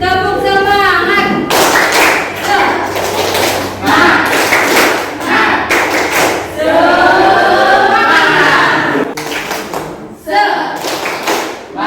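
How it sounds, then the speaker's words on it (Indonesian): A school class performs a rhythmic spirit clap together in the classroom, sharp group claps and thumps in patterned bursts, loud and close, with voices chanting and talking between the beats. "Tepuk semangat."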